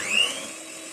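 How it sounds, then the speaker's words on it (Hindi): Electric hand mixer beating cookie batter with vanilla essence for almond fudge cookies, a steady whirring drone that holds close and loud with a brief rise near the start, no talking. "एक टीस्पून इसमें वनीला एसेंस डालेंगे और थोड़ा सा वनीला एसेंस के साथ बीट कर लेते हैं।"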